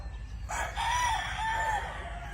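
A Spaniel Hatch gamefowl rooster on a farm lets out a clear, nearby cock-a-doodle-doo with a drawn-out, wavering tail over a low background hum.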